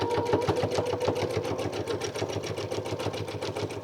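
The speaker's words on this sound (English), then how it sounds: "And you just want to start sewing" A sewing machine stitches a quilted cinch bag, running steadily at high speed with a fast, even mechanical chatter. It is close and moderately loud, with no voices.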